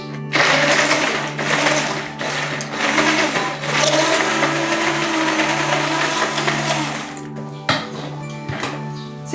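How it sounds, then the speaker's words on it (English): A stick blender whirs through a natural soap mixture in bursts, a loud, steady motor hum broken by short pauses between pulses, with no one talking. "When you drag the blender on the top, it's starting to form some grooves, but let's pulse it a little bit more."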